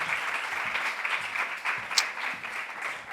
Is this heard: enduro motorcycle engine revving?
no